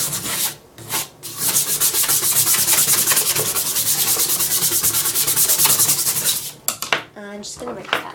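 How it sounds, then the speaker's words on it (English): Brisk rhythmic scrubbing of the back of an item during cleaning, a close, steady rasping rub that runs for several seconds before a few clattering knocks. "the back doesn't really get that mucky, so I'm just going to scrub that a little bit"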